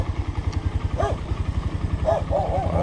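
A motorcycle engine thumps in a steady, rapid pulsing rhythm, recorded up close on a ride, with a dog barking a few times in the background.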